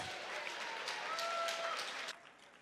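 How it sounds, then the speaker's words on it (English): Faint, distant crowd applause at a CW 66 mixed martial arts event, given for two fighters after a three-round bout. It is a steady wash of clapping that tails off near the end. "a round of applause for two great fighters"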